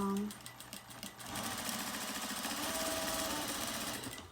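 Sewing machine running steadily as it stitches elastic into a waistband, a rapid even mechanical whir with a short burst at the start and then continuous stitching, close and fairly loud.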